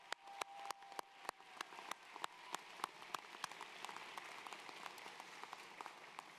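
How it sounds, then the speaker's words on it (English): Audience applauds staff at a college commencement ceremony in a large hall, starting with a few sharp, separate claps up close that build into a steady, quieter patter of crowd clapping. "If you don't mind giving our staff a round of applause for making today possible."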